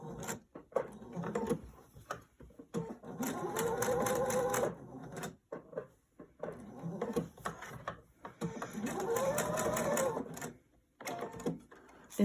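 Close sewing machine runs in bursts while stitching fabric, a rapid rhythmic mechanical chatter in several runs of a second or two, each separated by short pauses and small clicks.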